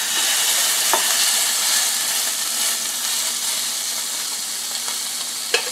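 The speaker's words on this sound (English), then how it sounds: "You're gonna hear a sizzle in a second" Food sizzles loudly and steadily on the hot grill plate of a Ninja Foodi Smart XL indoor grill, a constant frying hiss with a few faint clicks.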